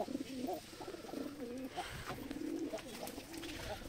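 Pigeons cooing close by in a loft, with an egg-ready bird among them, a steady run of low throaty coos overlapping one another with soft background rustle and no talk.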